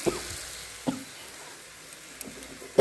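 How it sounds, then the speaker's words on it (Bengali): Lentils (dal) frying in a spiced tempering give off a faint, steady sizzle, broken by a few sharp clicks and taps of stirring against the pan. "ডালটাকে আমি একবারে ফোড়নে দিয়ে আমি ভেজে নেব।"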